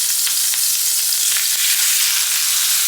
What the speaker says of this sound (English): in a very hot cast iron skillet. Throwing in some butter. And here are my steaks.